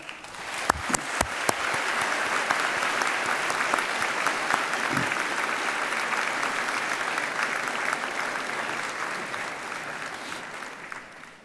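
Graduates and guests at a university graduation ceremony in a large hall give a sustained round of applause, starting with a few sharp claps and then swelling into dense, even clapping that tapers slightly at the end.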